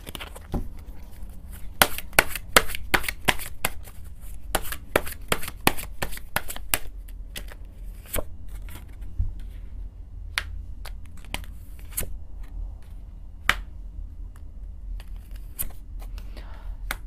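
Tarot cards being shuffled by hand, a steady run of quick papery riffles and slaps close up, with occasional card taps and no talking.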